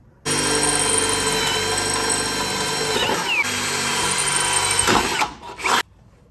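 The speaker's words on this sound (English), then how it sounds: "Now I can drill the holes without worrying about hitting anything back here." A power drill whirs steadily at close range for several seconds, drilling mounting holes during an air bag install on a Toyota Tundra, pitch wavering slightly as it bites, then winds down and stops.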